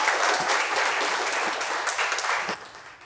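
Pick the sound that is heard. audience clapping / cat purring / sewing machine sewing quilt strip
audience clapping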